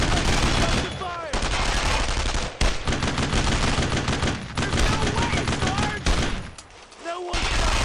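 Suppressive gunfire during a firefight with German paratroopers in Brothers in Arms: Road to Hill 30 pounds on as a sustained, loud barrage of rapid rifle and machine-gun bursts, broken by a few brief pauses, with faint voices now and then.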